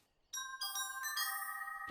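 A bell sound effect from Mickey Mouse Clubhouse: a bright chime strikes after a brief silence, followed by a couple of quick overlapping strikes that ring out clear and sustained.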